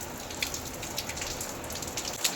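Heavy downpour outside, a dense, steady hiss of rain with scattered sharper drips and taps on surfaces, continuous throughout with no talking.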